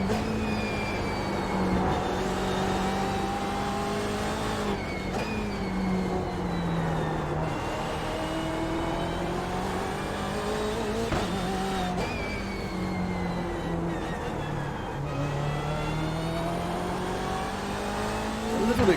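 Car driving a lap on a race track: a steady, loud engine drone that rises through the gears, dips when braking for corners and climbs again, continuous from start to finish.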